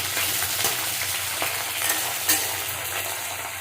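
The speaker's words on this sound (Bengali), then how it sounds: "ভালো করে ভাজতে দেবে এটা" Steady frying sizzle of a hilsa fish head in hot oil, with a few soft clinks and stirs, close and continuous with no talking.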